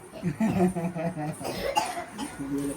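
A person coughs during lively family conversation at a home gathering, the short cough bursts mixed in with nearby voices talking.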